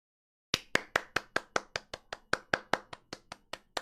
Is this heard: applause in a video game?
yes